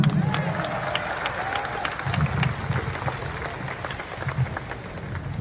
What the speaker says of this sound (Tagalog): Pumalakpak ang lahat ng anak ng Panginoon.